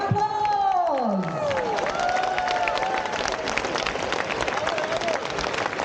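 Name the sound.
crowd applause and cheering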